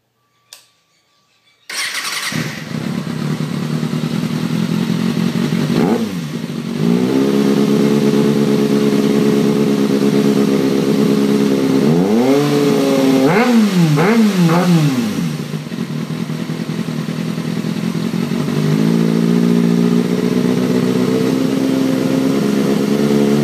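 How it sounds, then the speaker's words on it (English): Kawasaki ZX6R sport motorcycle fitted with an Ixil Hyperlow exhaust cranks and fires up, settling into a loud, steady idle close by, broken by a few sharp throttle blips and revs before dropping back to idle. "I'll start it up, you can have a listen."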